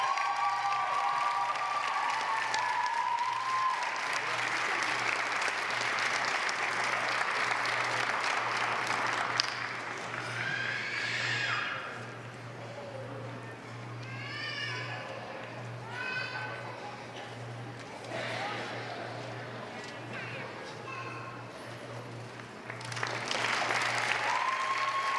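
Applause for respiratory care graduates at a 2017 allied health pinning ceremony: steady, dense clapping from a large crowd fills the room throughout, with scattered cheers and some voices mixed in beneath.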